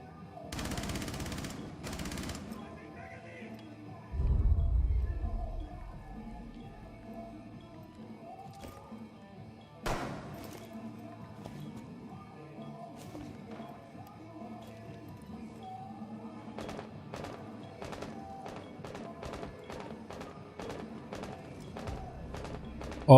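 Gunfire in a Rainbow Six: Siege match, heard as a few sharp distant shots followed later by a quick run of evenly spaced rapid-fire bursts, fairly faint against a quiet in-game background with no talking.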